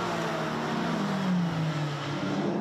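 GT3 race cars at speed on the Nürburgring Nordschleife during a VLN endurance race, including a Porsche and an Audi R8, a loud continuous engine roar rising and falling briefly as they pass.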